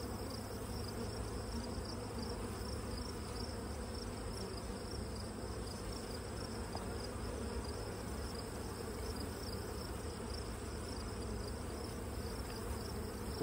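Honey bees swarm around an opened hive frame, their dense, steady buzzing a constant drone with occasional individual bees zipping close by, quiet and without talk.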